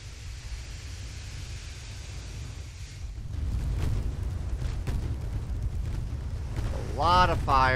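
Naval guns firing in the Ultimate Admiral: Dreadnoughts warship game, a steady roar of cannon fire and rumbling blasts with a sweeping whine near the end, under a voice.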